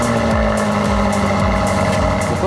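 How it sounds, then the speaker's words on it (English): A BMW M8 sports car with an M Sport exhaust burbles and growls steadily at close range, its exhaust note pulsing with a few low revving swells. "the sound of the M Sport exhaust system speaks for itself"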